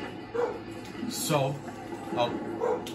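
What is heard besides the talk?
dog barking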